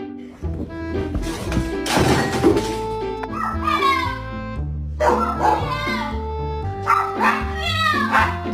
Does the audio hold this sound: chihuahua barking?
yes